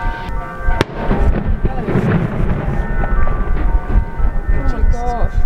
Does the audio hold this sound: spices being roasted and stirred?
no